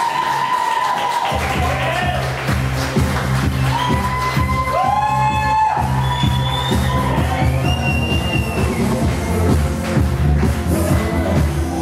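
Wedding guests at Brownlow House cheer, whoop and shout as the bride and groom enter for their first dance, a loud crowd roar with a steady backing of music and scattered voices throughout.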